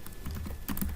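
Fingers typing on a computer keyboard, a close run of quick, irregular key clicks and taps over about a second with no voices.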